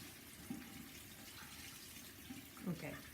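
A tap runs quietly while a bathroom is being rinsed, giving a faint, steady flow of water with a few soft knocks and splashes and murmured voices in the background.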